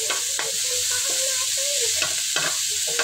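Garlic sautéing in a pan for kare-kare, a steady bright sizzle of frying with repeated scraping and stirring strokes close up, no voices.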